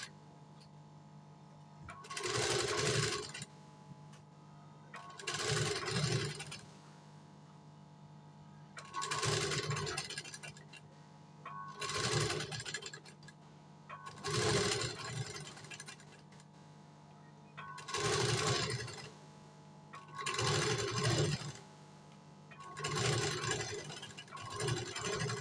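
A sewing machine stitches lace onto a blouse design in repeated bursts of fast, steady whirring, each lasting a second or two, separated by short pauses, close and moderately loud with no talk.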